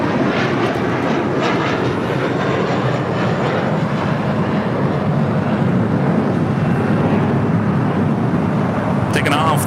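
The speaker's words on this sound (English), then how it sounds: "Taking off, that was American Airlines Flight 2 heading to JFK and then A321." An American Airlines A321 jet taking off at LAX produces a loud, sustained engine roar that stays steady and powerful close by, with a faint voice briefly in the mix.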